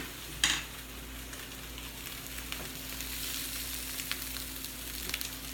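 Browned linguiça sausage, onions and garlic fry in a pan with a soft steady sizzle, a sharp clink of a utensil near the start and faint scraping stirs after it.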